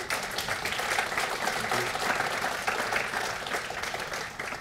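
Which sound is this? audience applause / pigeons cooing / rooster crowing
audience applause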